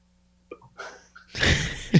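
A dog named Maple lets out a short, sharp sneeze with a snorting burst of breath, close and fairly loud, after some faint shuffling.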